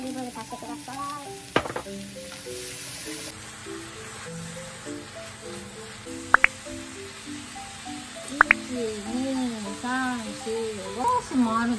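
Onions fry in olive oil in a pan, a steady sizzle with occasional stirring clatter and scrapes, while someone talks and sings over it.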